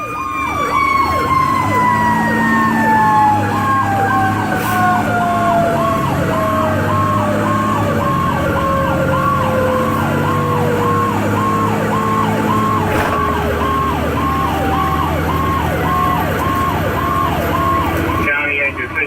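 A fire truck's mechanical Q siren screams loud and close, its pitch slowly winding down, while an electronic siren wails in rapid rising and falling cycles over a steady engine rumble for the whole stretch.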